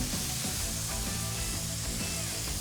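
Turkey burger patties sizzle steadily in a hot pan just after being flipped, a close, continuous crackling hiss with no one speaking.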